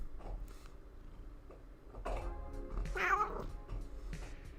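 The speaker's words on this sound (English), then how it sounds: "That was a good meow." A cat lets out a drawn-out, wavering meow over faint room noise, with a couple of shorter, softer vocal sounds just before it, fairly close and heard alone.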